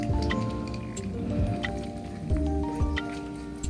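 Wet compress cloth soaked in warm water being wrung and squeezed by hand, giving close squishy squelches and dripping water over a couple of seconds.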